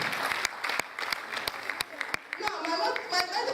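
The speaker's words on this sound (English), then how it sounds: "Let's clap for that daddy." Audience applause at a Lagos State University of Science and Technology mentor and mentee gathering, a dense run of clapping with a few sharp individual claps standing out, while a voice and other talk carry on over it.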